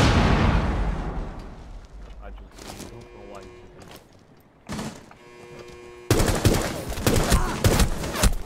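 Video game gunfire cracks out in bursts of shots and explosive pops, quiet and sparse at first, then loud and dense near the end, with game sound effects and music layered over it.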